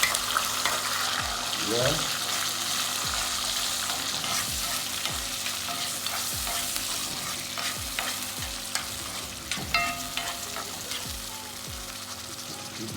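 Kidney sizzles and fries in a pot during Jamaican home cooking, with a steady hiss broken by repeated scraping stir strokes and clinks of the spoon against the pot. A brief word is spoken once.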